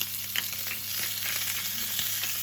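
Steak sizzles in oil on a grill pan, a dense, close, even hiss with small crackles and a few faint taps from tongs. No one speaks.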